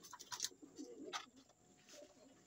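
Pigeons coo softly inside a loft, with low murmuring calls spread across the moment and a few brighter bursts of bird noise, close by and with no one speaking.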